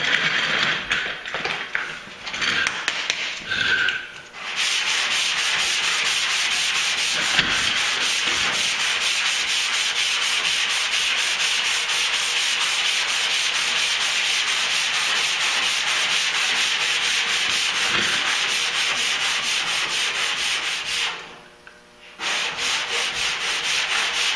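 Steady, continuous rasping of 80-grit sandpaper on a sanding block scrubbing back and forth over wheel arch body filler on a Duramax truck, close and loud, with a brief pause near the end before it resumes.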